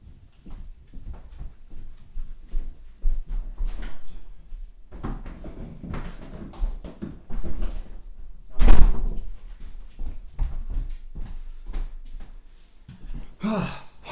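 Kitchen door being opened and closed while a cat is put out, giving several knocks and thuds, including one sharp louder bang, over household shuffling and handling noise.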